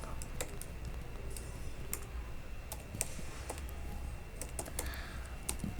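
Someone types code on a computer keyboard, a quick irregular run of close key clicks and taps over a quiet background for several seconds.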